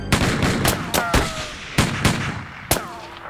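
Cartoon gunfire rings out in a series of sharp, loud bursts roughly every half second to second, with brief ringing tails, a few faint voices mixed underneath.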